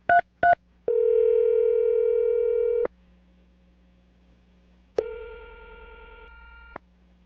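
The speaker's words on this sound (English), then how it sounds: "I'm going to dial the phone number right now" Two short telephone beeps, then a long steady dial tone that stops, a faint hum, and a second long tone before a click.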